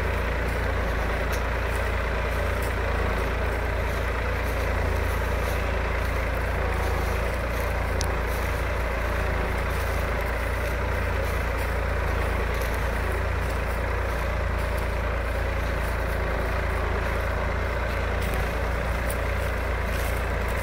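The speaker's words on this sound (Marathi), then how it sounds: "हे इलेक्ट्रिक हायड्रोलिक ट्रॅक्टर आहे साहेब" Electric hydraulic tractor pulling a Bharat plough in a field, a steady low engine hum with constant mechanical rumble, close and unbroken, no talking.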